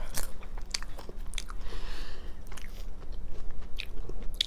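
Someone bites and chews crunchy fried onion rings close up, sharp crunches scattered over steady chewing, with no talking.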